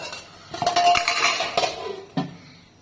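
A lid goes onto a cooking pot of dal in a village kitchen, with several close metallic clanks and scrapes, then one final solid clunk as it settles.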